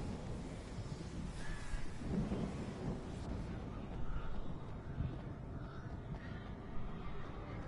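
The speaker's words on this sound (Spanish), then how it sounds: "Ahora van a venir los cuervos que te ha puesto." Harsh crow caws in the video game Alan Wake call out over a dark rumble of wind and thunder, several scattered cries rising and fading at middle distance.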